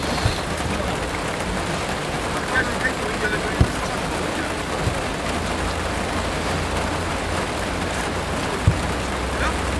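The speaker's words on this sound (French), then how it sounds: "On est trop dérangé par la pluie." Steady rain hisses across the whole stretch with occasional soft knocks, broadband and constant, no voices standing out.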